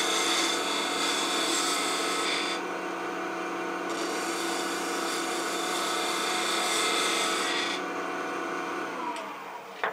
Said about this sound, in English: Anchor the tool, ride the bevel, lift the handle to the cut, bring it around.